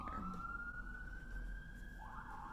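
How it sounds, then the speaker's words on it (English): A wailing siren, likely an ambulance near a hospital, sweeps steadily at a distance, rising toward the end, over low traffic rumble. "I live near a hospital, so there's always a siren"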